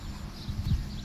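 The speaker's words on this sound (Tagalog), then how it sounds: "Yan po, rancho ng kabayo dito sa Umalkwento." Horse hooves clip-clopping at a horse ranch on a farm, a few soft, low thuds standing out briefly against steady outdoor background noise.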